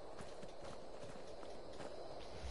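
Horse hooves clopping in a fantasy role-playing video game, a steady rhythm of walking hoofbeats under a dense, continuous game soundscape.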